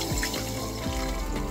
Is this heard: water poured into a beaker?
yes